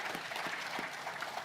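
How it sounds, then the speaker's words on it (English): Conference attendees at a Co-operative Party annual gathering applaud their panel, a short burst of steady, moderately loud clapping from many hands. "We'll just give applause for our panel."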